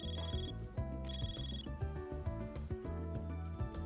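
A phone rings in the video game Trails through Daybreak, with a repeated electronic ringtone pattern over a steady musical background, loud and continuous with no talking.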